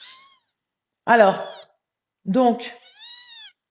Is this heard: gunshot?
no